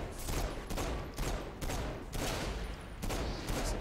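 Rapid bursts of pistol gunfire in the video game Saints Row IV, loud and close, firing in repeated clusters of shots with brief pauses between them.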